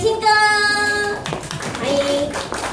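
Audience clapping to welcome a guest at a 4K TV launch event, a burst of hand claps following music and speech, with a voice talking over part of it.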